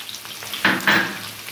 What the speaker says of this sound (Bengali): বন্ধুরা কুমড়োর আলুটা দেখুন ভাজা ভাজা হয়ে গেছে, একদম ভাজা ভাজা করে নিয়েছি।